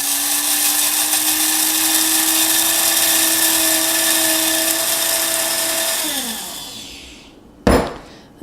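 Electric coffee grinder whirring through a tablespoon of flax seeds, a steady loud motor whine for about six seconds that winds down as it stops, followed by a sharp knock near the end.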